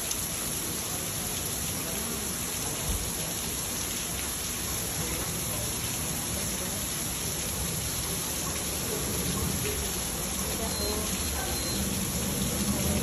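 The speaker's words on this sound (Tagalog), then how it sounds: "Ayan, umuulan na naman guys." Steady, dense hiss of rain falling in Honolulu throughout, constant and close, with faint voices occasionally underneath.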